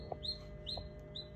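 A newly hatched chick chirps three times, short rising peeps spaced evenly, faint over a quiet background hum with a couple of soft low clucks.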